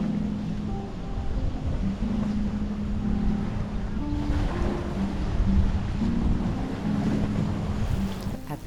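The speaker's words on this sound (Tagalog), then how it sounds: "Nakaka-relax yung sound ng waves." Ocean waves wash steadily onto the shore at a beach resort on Mactan, Cebu, under a constant wash of wind noise and a low engine-like hum, with no one talking.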